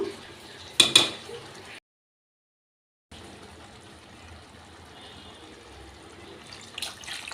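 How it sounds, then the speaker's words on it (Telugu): Water is poured from a glass into a pot of mutton paya curry, giving a short splashing burst near the start. A low kitchen hiss follows after a brief gap. "వన్ గ్లాస్ వాటరు ఇలా యాడ్ చేద్దాం."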